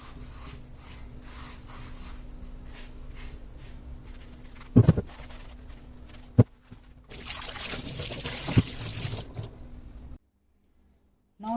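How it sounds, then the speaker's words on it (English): Water runs and trickles while a cast iron pan is rinsed and scrubbed with a sponge, with a few sharp clanks of metal, then it cuts to near silence. "rinse it in water and scrub it lightly"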